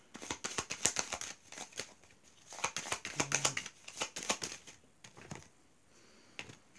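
A tarot deck being cut and shuffled by hand: a long run of soft, rapid card slaps and rustles in uneven bursts, close but fairly quiet, with no voice over it.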